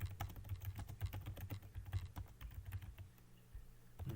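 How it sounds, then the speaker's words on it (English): Rapid keyboard typing as a command is entered on a computer, a steady run of close, crisp key clicks with no talking. "we can install it by typing sudo apt install curl"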